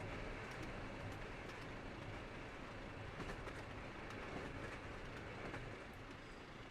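A PRR T1 steam locomotive in Trainz Simulator 3 rolls along at speed, a steady rail rumble with rhythmic clickety-clack of wheels over track joints, faint and continuous throughout.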